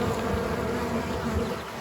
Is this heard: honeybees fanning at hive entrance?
yes